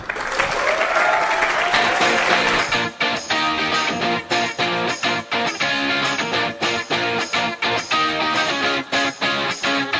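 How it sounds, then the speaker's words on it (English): Sustained applause from a large conference audience for a keynote speaker, loud and continuous, with dense clapping filling the whole stretch and a faint murmur of crowd beneath. "So please, a big applause for Travis Oliphant."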